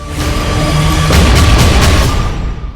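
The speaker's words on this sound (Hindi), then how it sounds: "तोप और टैंक के धमाके की आवाज आ रही है।" Heavy artillery and tank blasts thud one after another, deep and rumbling, with sharp cracking impacts over a continuous low roar during fighting between Israel and Lebanon; no voices.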